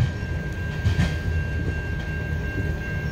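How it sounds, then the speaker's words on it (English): Amtrak passenger train 93 rolling past at a steady, continuous rumble with faint rail noise, heard without talk. "That was Amtrak"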